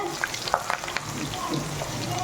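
Chopped onions and green chillies sautéing in oil for prawn dum biryani gravy, giving a soft, steady sizzle with scattered crackles and a few light stirring clicks, close and moderately quiet.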